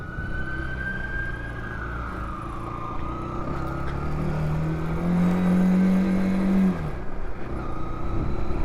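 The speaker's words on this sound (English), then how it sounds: "It changes gear really smoothly, just like you'd expect off a brand new bike." Zontes ZT125C motorcycle riding over cobbles, its engine note steady and then rising in pitch as the gears are changed, loud and close throughout, with no voices heard.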